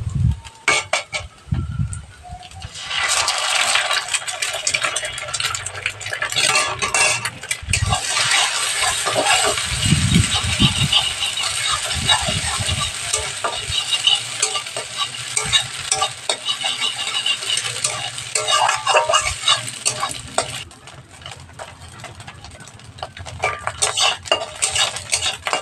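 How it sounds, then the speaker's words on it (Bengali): Eggs fry with onion and dry chillies in mustard oil while they are stirred in the pan. A loud, continuous sizzle runs under repeated metal scraping and clinks of a spatula against the pan, then eases off near the end. "ডিমটাকেও ভালো করে বাদামি করে ভেজে নিতে হবে, কাঁচা রাখা যাবে না।"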